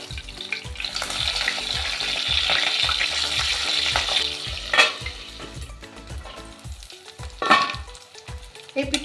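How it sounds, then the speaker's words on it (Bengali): Pabda fish fry in oil with a strong, continuous sizzle and hiss, broken by a couple of sharp scraping clatters as the pieces are turned over in the pan, with no voices. "এপিকটা ভাজা হয়ে গেছে। এবার এগুলোকে উল্টে দেবো।"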